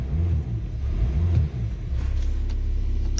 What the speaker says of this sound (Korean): 엑셀레이터 두 번 쳐보겠습니다.